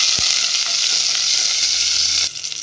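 Garlic and onion sautéing in a pan for a Filipino pechay stir-fry, a loud steady sizzle and crackle throughout, with a brief clatter near the start and the sizzle dropping slightly at the end.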